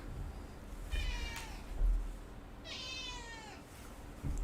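A cat meows twice, each call a drawn-out, wavering cry, over a low background hum.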